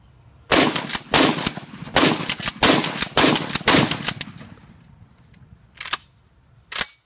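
An Uzkon TRX shotgun fires outdoors in a rapid string of about seven loud, sharp blasts in quick succession, then two more spaced shots after a short pause.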